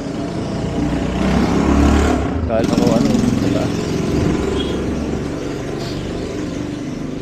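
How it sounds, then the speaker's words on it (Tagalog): A motorcycle engine rumbles loudly close by and swells as it passes on a street, with people talking over it. "Ang lakas kasi ng motor."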